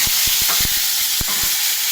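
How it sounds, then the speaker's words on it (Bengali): Potatoes and beans sizzle in hot oil tempered with cumin seeds, a dense steady frying hiss close by, with quick utensil taps and scrapes against the pan. "আলু মৌসুমি শিমটা দিয়ে দেওয়া হলো।"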